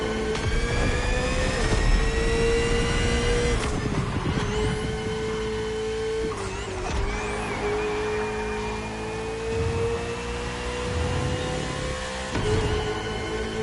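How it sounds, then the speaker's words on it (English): Loud, continuous roar of high-revving Italian sports car engines in a racing video game, pitch rising and dropping as they accelerate and shift, with no talking. "Listen to those engines, all those Italian horses rolling."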